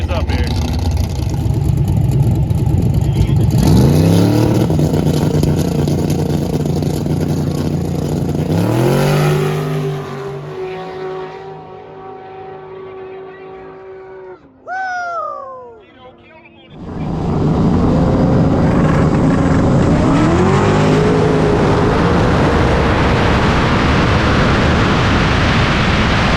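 A twin-turbo drag racing car at Capitol Raceway during a no-prep race roars loudly as it accelerates, its engine pitch climbing through gear changes, then fading briefly before another car's engine surges in, with people talking underneath.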